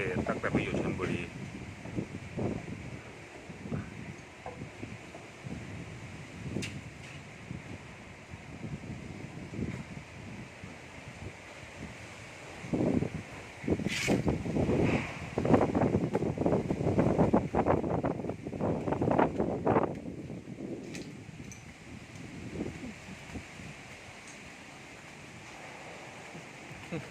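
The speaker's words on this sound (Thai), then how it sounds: "ลมแรงครับตั้งแต่ไปอยู่ชลบุรี" Strong gusty wind during a tropical storm in rural Chonburi, Thailand, roaring and buffeting the microphone in surges that peak in the middle, with faint rain drizzle and a brief voice.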